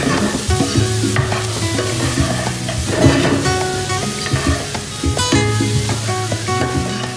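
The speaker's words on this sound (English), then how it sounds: "fry these off in a tablespoon of oil until they start to brown" Jackfruit pieces frying in a tablespoon of oil for a vegan kofta Madras curry, giving a steady close sizzle with stirring scrapes over continuous tonal background sound.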